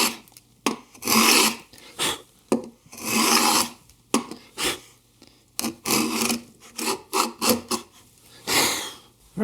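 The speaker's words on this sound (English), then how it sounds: "when I route them, I'm actually able to route both of them at the same time" A router cleans up the bottoms of two wooden half laps cut together, with repeated rasping, scraping passes in short bursts and brief gaps between strokes.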